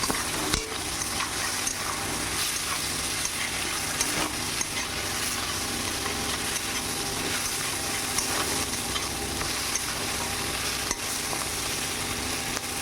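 Prawns sizzling in a hot pan for a Bengali papaya dish, a steady, close crackle and hiss of frying oil that holds evenly throughout with no voices.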